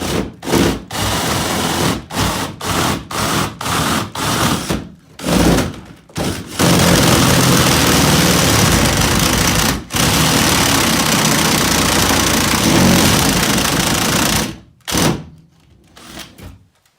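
Loud, continuous power drill grinding through a masonry wall beside a fireplace in long bursts, broken by several short pauses and stops, close by.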